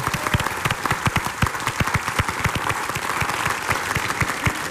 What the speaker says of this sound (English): I would like to ask for a big applause for Françoise,